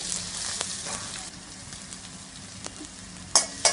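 Green chilies and onion hit hot oil with mustard seeds, giving a faint, hissing sizzle with a few soft pops and clinks near the end.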